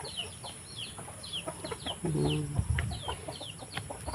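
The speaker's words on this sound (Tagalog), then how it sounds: "Yung manok niya." Several chickens clucking and calling nearby, with chick-like chirps scattered throughout and a low drawn-out cluck in the middle.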